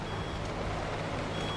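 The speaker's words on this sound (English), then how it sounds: "What is that funny beeping noise?" Electronic beeping in the driving survival game Pacific Drive, a steady repeating tone sitting inside a dense, constant bed of engine and background noise with no speech.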